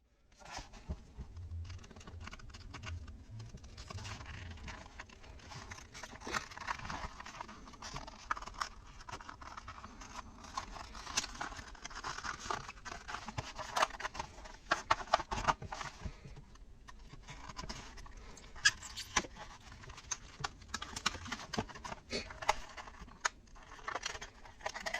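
Scissors snip and tear through plastic and card packaging holding a Hot Wheels Olds 442 toy car, a long stretch of close, irregular cutting, scraping and crinkling with no talking.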